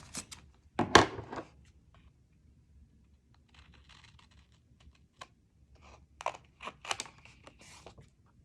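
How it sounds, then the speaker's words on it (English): Scissors cutting the corners of a paper pocket for a nature notebook album, with a few quiet snips and paper rustles, and one louder crinkle near the start. "Cut the corners of this pocket."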